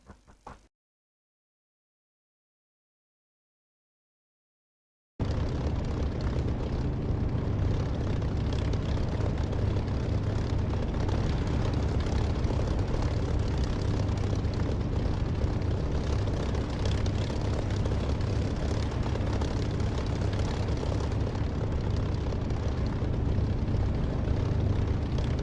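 Spitfire taxiing in the DCS flight simulator game, a steady loud propeller engine drone that starts abruptly after a few seconds of silence and holds at an even level to the end.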